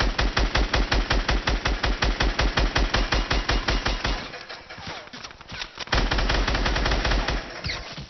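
Rapid automatic gunfire from Fortnite battle royale rattles in a fast, steady burst of dozens of sharp shots, briefly breaks into scattered softer impacts, then resumes with another loud close stream of shots.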